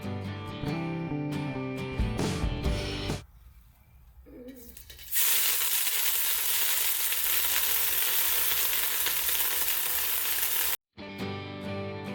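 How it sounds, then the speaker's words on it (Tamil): Grated coconut fries in a little oil until golden for coriander chutney, a steady sizzling hiss that stops and restarts, with stirring and music around it. "மீண்டும் கொஞ்சம் எண்ணெய் விட்டு தேங்காயை பொன்னிறமாக வறுத்துங்க."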